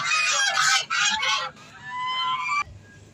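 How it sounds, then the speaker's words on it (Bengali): Geese honking at close range: a run of loud, harsh honks in quick succession, then a softer, drawn-out call that fades. "তো ফাইনালি রাজহাঁসগুলো এখানে আছে"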